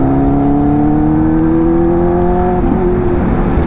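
A Benelli 600i superbike's engine hums steadily at a high, climbing pitch as the bike rides along, loud and continuous with no talk over it, the tone wavering slightly near the end.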